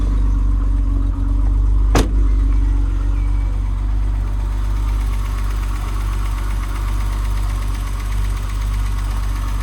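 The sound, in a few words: BMW 635csi E24 3.5 litre M30 engine running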